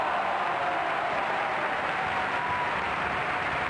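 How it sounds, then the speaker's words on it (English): Steady, dense applause from a group clapping together, even and continuous throughout with no pauses and no voices over it. "I think we need a warm round of applause for the singers at all the schools out there today."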